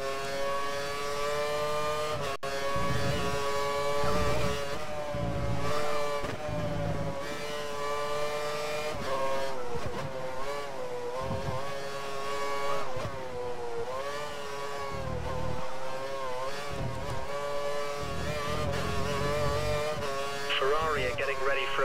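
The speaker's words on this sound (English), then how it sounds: "We think the car behind is running on full revs." Formula One race car engine in the F1 2013 video game at the USA race, a high-pitched engine whining and shifting through gears continuously, close and loud, with commentary spoken over it.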